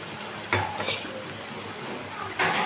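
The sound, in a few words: liver (kaleji) being stir-fried in a pan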